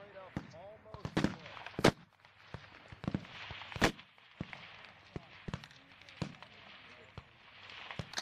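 Sharp rifle shots crack out one after another on an outdoor shooting range during team line coaching, some close and loud, others more distant, with people talking between the shots.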